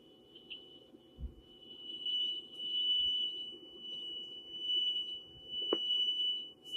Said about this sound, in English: These two speakers send out pure sound waves of identical frequency and amplitude.